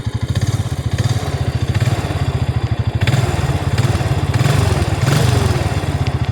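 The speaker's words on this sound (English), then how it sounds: "I really like this exhaust. It's a lot quieter." A 14-year-old Honda Rancher ATV with a custom quieter exhaust runs steadily nearby, a loud, even low-pitched putter with rapid regular pulses that holds without a break.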